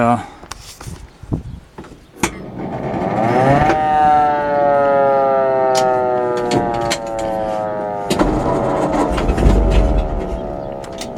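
A 1947 Ford fire truck's engine cranks with a few clicks and knocks, then catches and runs loud and close, its whining tone rising and falling as the revs change.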